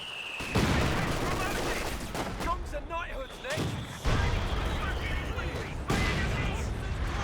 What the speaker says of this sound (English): They'll throw out some base howitzer fire on that